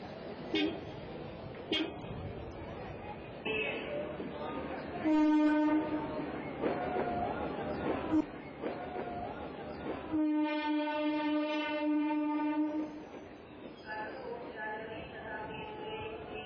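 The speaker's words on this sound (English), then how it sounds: "Let's go to the railway station, not to catch a train, but to look at a railway chart." Railway station ambience with trains: a rumbling rail background, two sustained horn blasts around the middle and a long horn near the end, and voices murmuring around the platform.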